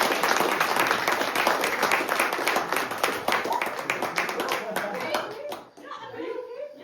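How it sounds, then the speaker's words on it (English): Lively applause at an open mic night at GrassRoots Ranch, dense clapping from a small audience with a few voices and chuckles mixed in, tapering off near the end. "give him a big round of applause"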